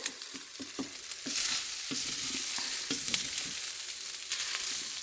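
Egg fried rice ingredients being stirred in a pan over reduced heat, with a steady hiss of frying and repeated scraping and tapping of a spatula against the pan.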